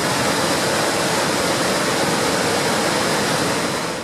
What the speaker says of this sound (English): The entire volume of the Zambezi River pours through the first gorge, 110 meters wide